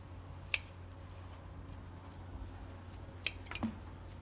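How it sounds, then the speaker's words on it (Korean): Scissors trimming excess fabric from the upper collar of a tailored jacket, two or three crisp snips at intervals over a quiet room background, close and with no speech. "그래서 이쪽 남는 부분을 다시 잘라주세요"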